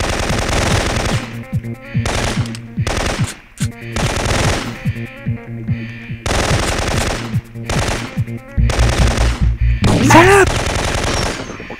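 Bursts of automatic gunfire from the video game Syphon Filter 2, loud rapid volleys in several clusters separated by short gaps, with a sharp ricochet-like whine near the end.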